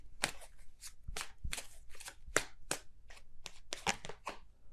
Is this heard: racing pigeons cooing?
no